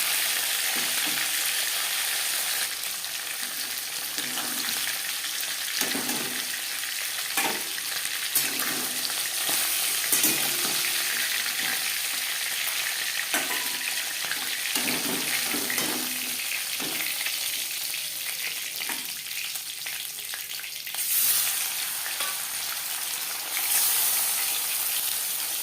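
Pieces of silver carp fried a few at a time in oil in a pan give a steady, close sizzle that runs throughout, with occasional crackles and soft clinks of a turner as the fish is flipped.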